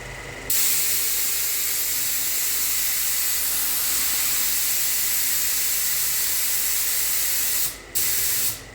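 A spray gun sprays Platinum lacquer in a loud, steady, close hiss that runs for about seven seconds, cuts out briefly, then resumes for a short final burst.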